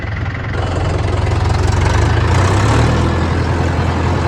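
A John Deere 5310 tractor engine idles steadily nearby, a loud, even diesel rumble with a low rhythmic throb and no change in pace throughout.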